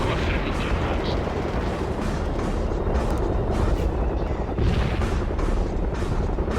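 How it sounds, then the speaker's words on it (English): An incendiary bomb strike in the video game World in Conflict, heard as continuous heavy rumbling and thudding blasts in a dense, loud battle din, with voices speaking underneath. "Incendiary bomb."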